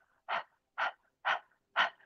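Breath of fire yoga breathing: four forceful, evenly spaced puffs of air pushed out through the mouth, close and clear against silence.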